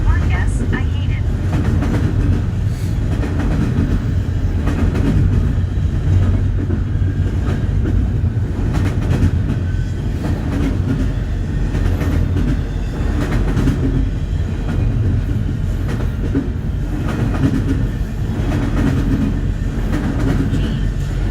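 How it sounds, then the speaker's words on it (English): Freight train locomotives working hard as they pass a Texas railside traffic camera, a loud continuous low rumble and engine drone with steady rail clatter throughout, voices faintly under it. "those locomotives sound like they're really working hard"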